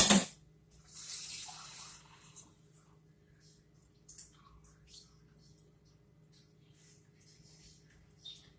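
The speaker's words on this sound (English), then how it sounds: "I just rinse out the can because we're basically recycling it" Tap water splashes and trickles as two emptied cream of chicken soup cans are rinsed in a kitchen sink, opening with a brief loud burst, then an intermittent, fairly quiet spray with scattered clinks and a low steady hum underneath.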